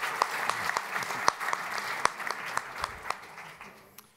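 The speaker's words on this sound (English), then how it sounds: "join me in having a big round of applause to the excellent professionals I have in my panel" Applause from a conference audience for a panel of aviation professionals, a moderate, even patter of clapping with distinct nearby claps, tapering off at the end.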